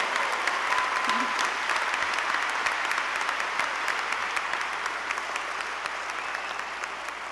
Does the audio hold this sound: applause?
yes